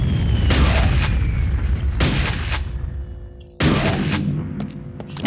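Three heavy shotgun blasts from Quake II, roughly 1.5 seconds apart, each a loud broadband boom with a short decaying tail over a steady low game rumble.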